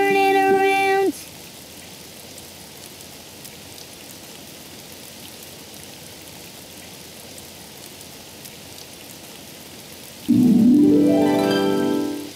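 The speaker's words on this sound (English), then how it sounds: "Oh, it's raining outside." Steady cartoon rain falls outside, a soft, even hiss that runs on alone through most of the scene, with brief bright tones at the start and a warbling musical sound near the end.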